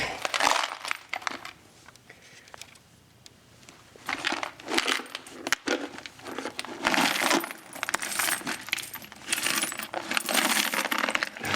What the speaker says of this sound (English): So we're gonna go ahead and dump these out.